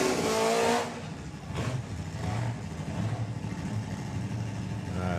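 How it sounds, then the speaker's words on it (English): Drag racing car at the STP Summer Nationals 2022 doing a burnout, a loud revving engine burst that drops away, then a sustained raspy engine roar with tyre noise continuing at moderate distance, no talk. "As Steve Willett does his burnout, just goes over the start line by about 20 f"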